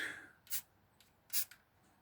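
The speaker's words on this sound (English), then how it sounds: "You notice I'm just spray painting the bowl." A spray paint can sprays onto a bowl while painting space art, giving two short, sharp hissing bursts close by in a quiet room, with no talk.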